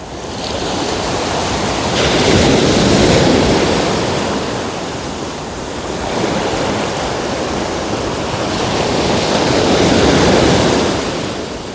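Sea waves rolling onto the shore, a loud, steady surf that swells and recedes in slow cycles with wind noise over the microphone, heard alone.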